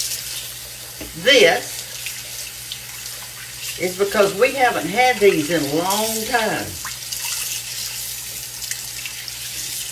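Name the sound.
rinsing spare ribs under cold tap water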